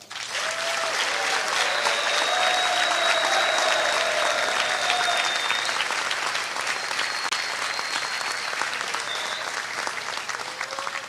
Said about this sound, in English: Boys State, with your applause,